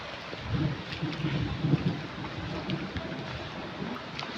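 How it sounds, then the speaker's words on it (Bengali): Heavy rain pours steadily and fills the space with dense, continuous hiss, with low rumbling swells early on and no talk over it. "প্রচুর পরিমাণ বৃষ্টি।"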